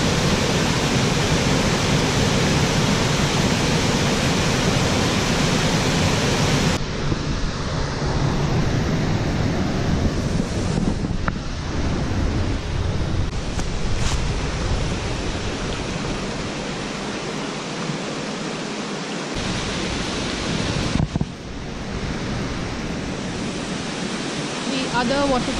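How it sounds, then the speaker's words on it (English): A waterfall roars as a dense, continuous rush of broadband noise, close and loud throughout, with a voice briefly heard over it. "The other waterfall is behind that cliff, right there."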